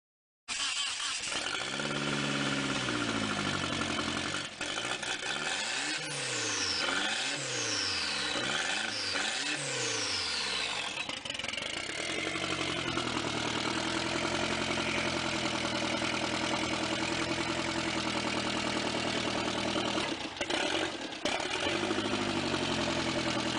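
An AWD Dodge Colt with a swapped-in engine fires up for the first time, revving in several rising and falling bursts before it settles into a steady idle, recorded near the car.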